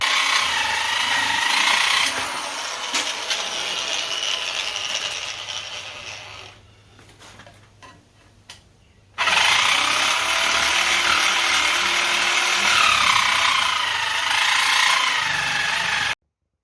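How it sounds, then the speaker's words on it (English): Electric snips cut sheet metal on a 1968 Pontiac, a harsh buzzing chatter that runs for several seconds, drops out for a quieter stretch, then resumes loud and steady until it stops abruptly. "I'm going to cut it out with some electric snips"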